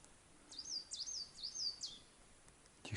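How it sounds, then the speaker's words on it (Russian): A small bird sings a few quick, high whistled phrases close by in a quiet taiga forest, with faint background hush. "Пение птиц."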